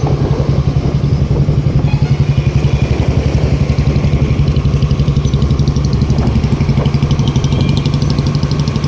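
A motorcycle engine runs steadily at close range with a fast, even putter throughout, loud and unbroken, with no voices.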